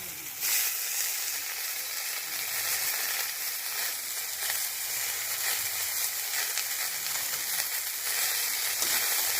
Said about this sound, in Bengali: গিমা আর বেগুনে ভালো করে এখানে ভেজে দেবো একসাথে